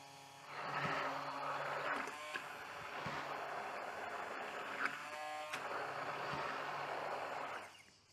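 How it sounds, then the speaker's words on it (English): An immersion blender whirs through homemade mayonnaise, a steady close buzzing drone that runs for several seconds with small shifts in pitch as it moves, then stops. "And we use our immersion blender."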